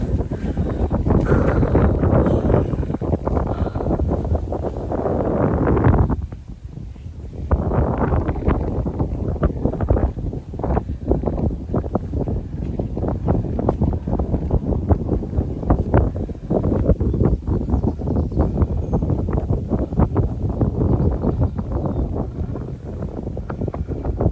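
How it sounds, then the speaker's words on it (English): Strong gusting wind buffets the microphone at the top of a lookout tower, a loud continuous roar with a brief lull partway through. "I don't think you're gonna be able to hear me because it's really windy"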